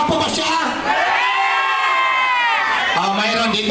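A crowd, many of them children, shouts and cheers loudly and continuously in a dense burst of high voices that swells and holds for a few seconds, at a lively gathering with a host teasing about whether someone is handsome.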